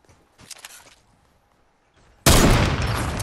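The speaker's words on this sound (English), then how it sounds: "I heard some shooting. Oh, they're fighting." Gunfire from a video game firefight, starting as faint, distant pops and then bursting into a loud, dense volley that runs continuously to the end.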